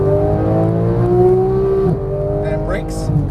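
A 475 hp Porsche 991 GT3 accelerates on a race track, the engine note climbing steadily and loud before easing off, with a coach's voice talking over it.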